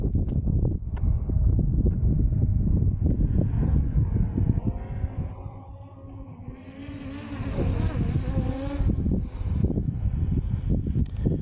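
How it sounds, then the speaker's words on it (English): Strong outdoor wind buffeting the microphone in heavy low rumbling gusts, easing briefly midway before returning loud. "it is awfully windy out here"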